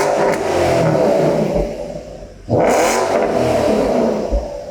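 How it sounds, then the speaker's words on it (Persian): A used Porsche engine revs with a throaty exhaust note, two strong bursts separated by a brief dip as the throttle drops and rises again, loud and close with no talking. "صدا اگزوزش عالیه."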